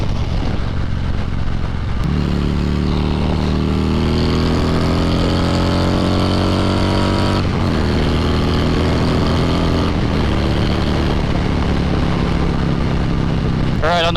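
Steady roar of wind buffeting a rider on a 2020 Harley-Davidson Road King Special at highway speed, mixed with the engine's rising drone as it accelerates, loud and unbroken throughout.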